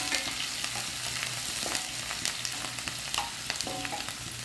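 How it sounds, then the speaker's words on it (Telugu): Green chillies and onions frying toward light brown for mutton mosaga, a steady crackling sizzle with repeated spatula scrapes and taps against the pan, close and even. "పచ్చిమిరపకాయ ఉల్లిపాయలు వేయించుకోవాలి"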